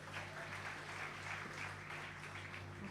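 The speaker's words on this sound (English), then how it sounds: "Let's give them a big round of applause." An audience at a national schools debate grand final applauds a performing group, a steady, fairly faint wash of clapping with a low hum underneath.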